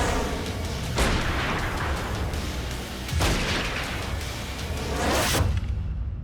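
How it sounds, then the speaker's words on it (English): A rocket weapon fires in repeated launches, each a sharp blast followed by a loud rushing whoosh, three big bursts over a steady roaring background. "Okay, rocket is armed."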